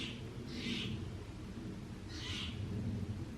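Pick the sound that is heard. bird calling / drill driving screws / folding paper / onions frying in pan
bird calling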